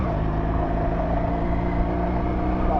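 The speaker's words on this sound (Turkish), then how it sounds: "Araba yanından geçiyor." A car passing close by a motorcyclist on a Regal Raptor motorcycle out on the road. Steady, loud engine and road noise runs throughout without a clear rise or fall.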